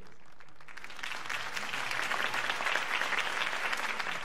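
Audience applause after a campaign speech in Batman: The Telltale Series video game, a dense, sustained wash of clapping that swells after the first second and stays steady with no talking.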